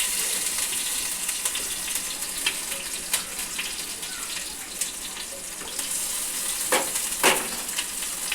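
Chopped chillies sizzling steadily in a hot pan, a continuous bright crackle with occasional louder pops and scrapes from stirring.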